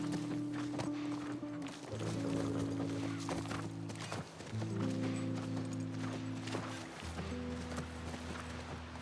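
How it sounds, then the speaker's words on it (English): Horse hooves clip-clop steadily in a video game set in woods, a moderate repeating gait beneath sustained tonal music. "Horse tracks. She went into these woods."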